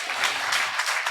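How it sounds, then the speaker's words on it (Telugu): Congregation clapping during a Telugu church sermon on the olive tree, a dense burst of many hands that stays steady and fairly loud across the short moment. "చప్పట్లు కొట్టండి."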